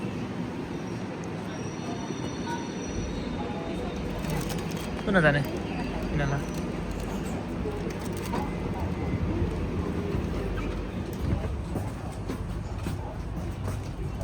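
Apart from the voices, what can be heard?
suburban train arriving at station platform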